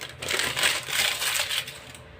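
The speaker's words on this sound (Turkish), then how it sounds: "belli noktalarda pişirme kağıdı yapışmış arkadaşlar. Onları da dikkatlice sıyırıyoruz." Stuck baking paper is carefully peeled away from a bar of homemade olive and mastic oil soap, a close, crisp tearing and crinkling rasp that comes in short uneven pulls.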